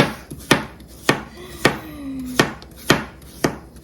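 An ultra-sharp Fzkaly knife chops chayote squash on a board with about eight crisp, close, evenly spaced knocks, while a faint tonal squeak sounds in the middle.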